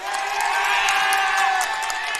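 Crowd roaring and cheering in a gym at a girls high school championship basketball game, a loud, sustained wall of voices with scattered whoops and whistles.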